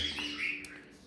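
Pet birds give faint, high chirps and a short whistled tweet, a few quick calls close together in a quiet room with no speech.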